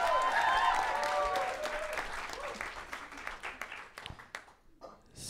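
A small group of guests applauds on a talk-show set, clapping fairly loud at first, then thinning to scattered claps as voices cheer and talk over it.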